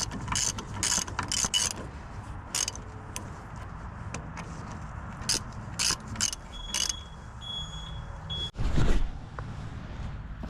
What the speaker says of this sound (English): Take a 21mm, run them down.